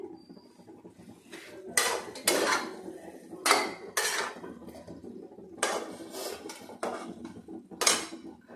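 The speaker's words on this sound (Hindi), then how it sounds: "अब मैं इसको खाली करने जा रही हूँ, एक प्लेट में खाली कर लेती हूँ" Metal pan and utensil clatter as cooked food is scraped and tipped out of a kadhai onto a plate, a string of sharp scrapes and knocks at uneven intervals, close by, with no talking.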